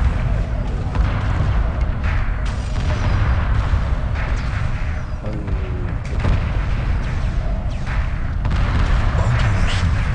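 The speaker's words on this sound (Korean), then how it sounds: "어 주포 쐈다. 아 쏘긴 쏘네요." Main cannon fire in the space strategy game Homeworld Remastered, a dense, loud rumble of repeated booms and blasts rolling continuously over the whole stretch, with faint speech underneath.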